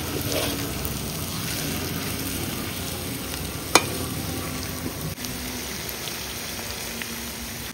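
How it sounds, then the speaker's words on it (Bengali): Potatoes sauté in spices in a pan for aloo dum, giving a continuous close, even sizzle with a sharp clink partway through. No one speaks. "আলুটা কষানো হয়ে গেছে"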